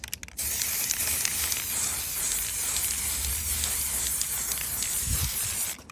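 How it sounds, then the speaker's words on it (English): Spray can primer hisses steadily onto Land Rover Discovery 5 HSE Lux car parts, a loud, close, continuous spray lasting several seconds after a brief start, with no talking. "let's go ahead and get these sprayed with the primer to start with"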